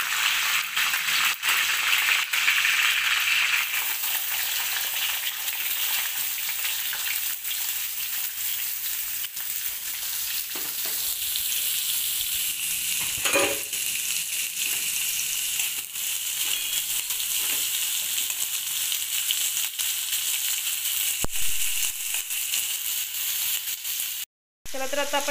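Onion frying in a pan with curry leaves for a sprouted moong usal, giving a steady, close, bright sizzle that runs the whole time with only slight swells and a brief cut near the end.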